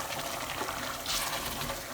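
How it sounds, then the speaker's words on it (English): Hot boiling water poured into a pot of oil rice with salted beef, a steady close gushing, splashing pour that holds evenly for the whole stretch with no talk. "I'll be adding my hot boiling water."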